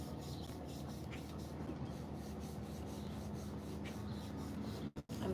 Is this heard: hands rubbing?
yes